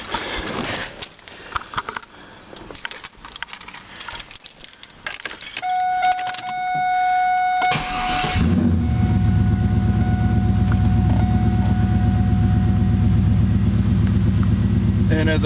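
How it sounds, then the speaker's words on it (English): Cold start of a car engine with about 87,300 miles, after sitting for five or six days: keys jangle and a tone chimes, the starter cranks briefly, then the engine catches and settles into a steady, close idle. "Show you how nice it starts up."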